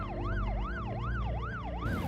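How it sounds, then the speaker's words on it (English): Wailing ambulance siren sweeping up and down in a steady repeating rise and fall, loud and close, heading to an emergency call near a city centre, with no talk over it. "I'm heading out for one more shift with ambulance crew Dom and Steve"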